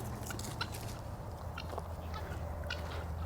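Farm birds, likely turkeys, call in short, faint bursts of gobbling and clucking over a steady low background.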